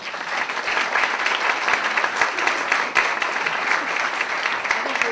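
A crowd at a women business owners' gala gives sustained, even applause that carries on evenly from start to finish, with some voices faintly mixed in.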